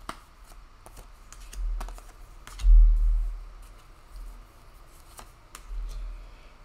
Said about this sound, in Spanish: Vamos a sacar tres cartas.